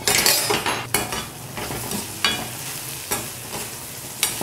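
Pirandai is being sautéed with tamarind and dried chillies in sesame oil, a soft sizzle broken by sharp spoon scrapes against the pan at irregular intervals, close and moderately quiet with no talking.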